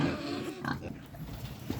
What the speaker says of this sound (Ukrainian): Тут у нас кабан і свинка.